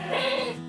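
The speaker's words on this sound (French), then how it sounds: "on entend les chèvres" A single short goat bleat, wavering and fairly close.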